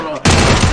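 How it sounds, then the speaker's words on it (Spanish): A loud, dense burst of rapid gunfire from a competitive 4v4 shooting video game match fills a brief moment, following a softer lead-in. "Y aquí va a haber intercambio de disparo."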